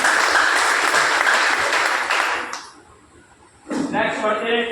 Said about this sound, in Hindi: मैं चाहूंगा अगेन जोरदार ताली होने चाहिए